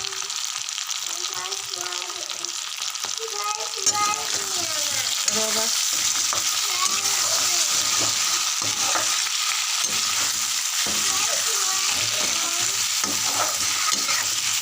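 Potato pieces fry with salt and turmeric in oil, giving a constant close sizzle broken by frequent scraping and clattering stirs, with a voice talking over parts of it.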